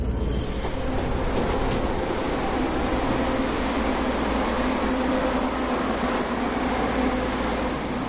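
A train rumbles steadily along the rails, a continuous loud clatter and hum from inside a packed carriage, with no talking.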